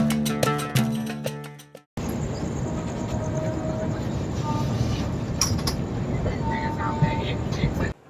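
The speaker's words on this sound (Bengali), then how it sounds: "ট্রেন এসে পৌঁছলো বর্ধমান জংশন স্টেশনে।" Train 13149 from Sealdah to the Dooars arriving at Bardhaman Junction at night. A short burst of tonal, horn-like notes fades out, then a steady, loud rolling rumble with faint squeals continues.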